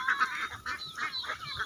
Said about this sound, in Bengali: হাঁস যাচ্ছে